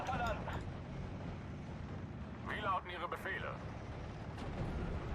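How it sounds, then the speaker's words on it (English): A Marder tank destroyer firing on a 6-pounder gun in the WWII strategy game Steel Division: Normandy 44, heard as deep booming cannon reports and rumbling battle noise beneath someone talking over it. "Let's use the Marder to shoot the 6-pounder."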